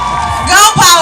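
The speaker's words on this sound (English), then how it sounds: "A round of applause for her." A university award-ceremony audience at Babcock University whoops and cheers loudly for a sportswoman of the year in a short, dense burst of crowd noise, with voices mixed into the roar.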